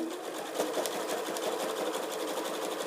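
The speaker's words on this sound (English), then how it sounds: "And with this project you can chain zigzag stitch. So just keep going, feeding one right after the other." A sewing machine chain-stitches fabric tubes with a zigzag stitch, one after another, giving a steady, close, fast mechanical whir with light rhythmic ticking throughout.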